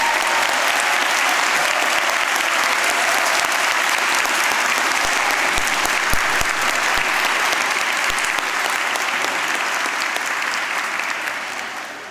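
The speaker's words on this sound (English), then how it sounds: "Give yourselves a round of applause." Loud, sustained applause from a graduation ceremony audience at City Education Group, a dense wash of many hands clapping steadily for about twelve seconds before beginning to thin slightly at the end.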